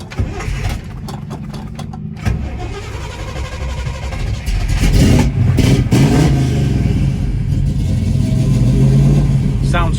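A 1967 Chevrolet Camaro engine cranks and catches, then revs up and settles into a loud, rough idle close by, with a burst of throttle midway.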